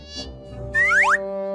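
A cartoon-style fly buzzes briefly, a short rising whine with a sliding boing-like sweep near the end, set over a sustained musical tone.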